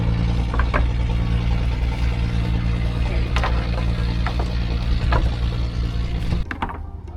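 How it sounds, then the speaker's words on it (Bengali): A fishing boat's engine runs steadily on the Padma river during hilsa fishing, a loud, continuous low droning hum with faint knocks, then cuts out abruptly near the end, leaving a quieter drop-off. "জেলে নৌকা চলতে চলতেই পদ্মার মাঝখানে এসে মেশিন হঠাৎ করেই বন্ধ হয়ে গেল"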